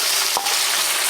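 Giant beetles frying in hot oil, a dense, steady sizzle that fills the whole second with one brief stirring scrape near the middle.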